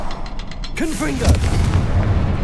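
A Confringo explosive spell is cast in Hogwarts Legacy: a sudden bright burst with swirling, whooshing streaks, then a deep booming impact that rumbles on beneath game noise.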